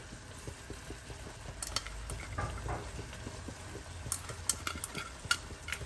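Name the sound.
stirring lamb shank palau in a pot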